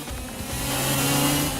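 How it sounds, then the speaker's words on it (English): A 125cc shifter kart engine in the racing game Project Cars whines at high revs with a steady, sustained mid-pitched squeal, continuous and fairly loud, with no talking. "The car sounds like it's squealing."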